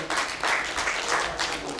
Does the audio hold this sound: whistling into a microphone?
no